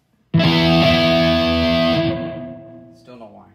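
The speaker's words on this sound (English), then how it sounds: "reverb on now." Electric guitar played through an amp's effects loop with reverb switched on, a sustained ringing chord that swells loudly then decays into a reverberant tail, with a brief scrape near the end.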